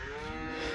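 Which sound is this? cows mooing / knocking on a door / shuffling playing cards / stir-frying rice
cows mooing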